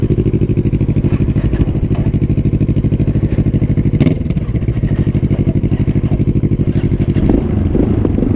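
A Yamaha MT-03 single-cylinder motorcycle engine thumps steadily while riding, loud and close, with a rapid even pulse, a brief change in tone midway and a slight rise near the end.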